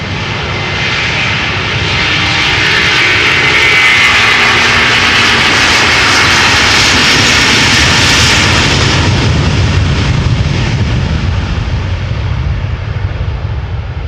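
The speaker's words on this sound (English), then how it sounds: "Delta Airlines Flight 163 A330-300 going to Minneapolis" A 16-year-old Delta Airlines Airbus A330-300 powering up for takeoff at Amsterdam Schiphol Airport: loud, sustained jet engine roar that builds over a few seconds and holds at full thrust, with no talk over it.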